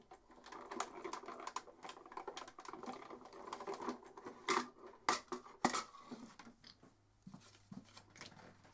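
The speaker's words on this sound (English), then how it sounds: "I'll run that through the machine" A die cutting machine runs a teal card with a sending die through its rollers, giving a close, irregular stream of crunching clicks and taps, with a few sharper snaps before it quiets down.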